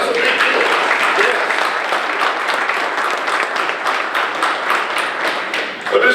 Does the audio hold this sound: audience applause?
yes